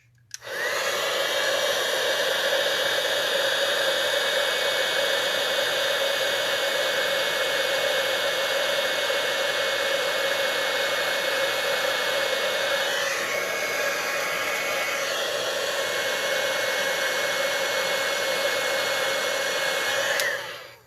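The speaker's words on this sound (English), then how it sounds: "I never leave my heat tool plugged in" A heat tool melting embossing powder on a card: a loud, steady hot-air blower roar that runs continuously for about twenty seconds, with a slight change in tone midway, then cuts off.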